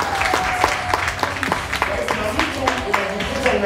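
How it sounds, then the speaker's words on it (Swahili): Hands clap in a steady, quick rhythm during a church worship service, sharp and fairly close, with a preacher's voice and crowd noise around them. "Msikie mtu hapo anapiga makofi."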